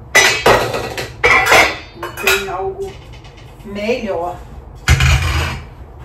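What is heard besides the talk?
dishes clinking while unloading a dishwasher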